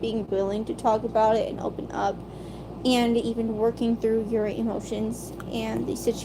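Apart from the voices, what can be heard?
No everyday noise stands out behind the speech.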